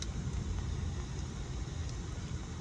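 Steady road traffic rumble heard from inside a car stuck in a rain-caused jam near an exit, a continuous low engine and tire drone with no talk.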